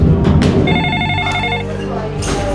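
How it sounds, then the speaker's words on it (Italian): A telephone rings in a long hotel corridor, its repeated electronic bell tones loud and close over a dense background that carries voices or music. "La telefonata. E questa volta viene da qui."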